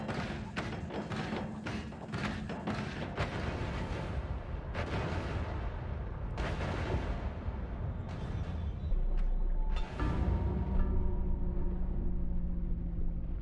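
Bombs exploding in the roguelike game Noita, a rapid series of close thumping blasts that cluster early and thin out, with a heavier rumble building toward the end and no talking.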